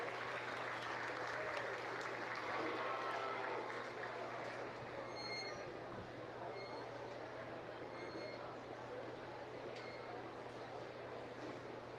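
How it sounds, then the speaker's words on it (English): A crowd at a county fair livestock arena applauds for young exhibitors, a steady, faint, somewhat distant wash of clapping over the hum of the arena. "Let's give these kids a round of applause."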